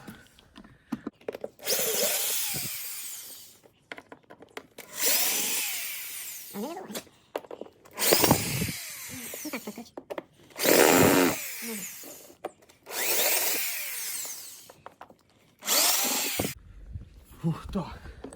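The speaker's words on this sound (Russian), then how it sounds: "с помощью шуруповерта и шубы мы попробуем открутить" Cordless screwdriver whirring in repeated short bursts of a few seconds each as it backs out a screw on the engine cover of a Volkswagen Jetta 2.5, close up, with someone speaking in the gaps.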